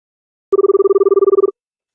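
A telephone rings for a caller phoning into a radio show: one steady, rapidly pulsing electronic ring, loud and close, lasting about a second and heard alone between stretches of silence.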